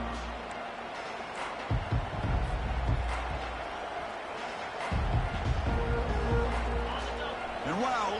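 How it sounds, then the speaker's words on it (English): Stadium crowd roaring at a football game, a dense, loud wash of cheering and noise rising in waves with a low rumble beneath, continuous throughout and swelling again midway. "listen to this crowd noise. This stadium is vibrating."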